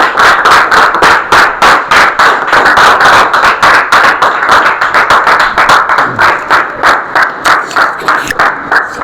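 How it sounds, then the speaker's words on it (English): A school audience welcomes a ninth-grade presenter with loud, sustained clapping that falls into a strong, regular rhythmic pulse, continuing close and steady with no talking. "Let's welcome him with a big round of applause."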